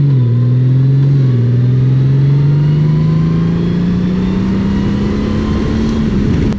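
A Honda Goldwing motorcycle pulls away in tour mode, its engine drone rising smoothly and steadily in pitch over several seconds, loud and close with no talk.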